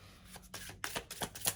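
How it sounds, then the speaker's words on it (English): A deck of tarot cards being shuffled in a quiet room, a few rapid riffling bursts and soft slaps, close and crisp, with brief pauses between them. "One more shuffle for Virgo collective, Sun, Moon, Rising, Venus."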